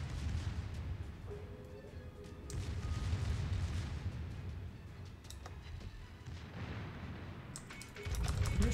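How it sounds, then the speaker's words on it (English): Naval gunfire from warships in World of Warships, with deep rumbling booms and a continuous low roar of battle, steady and dense, with a few sharper cracks toward the end. "that was a nice salvo"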